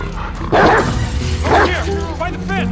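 A dog barks in The Last of Us Part II, two loud close yips about a second apart followed by softer whimpering cries, with a game soundscape underneath.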